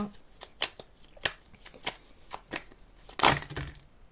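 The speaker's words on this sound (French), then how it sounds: "j'ai envie de tirer une dernière carte de l'oracle des miroirs." An oracle card deck being shuffled by hand, with a run of crisp, close riffling taps and a louder flurry near the end as a card is drawn.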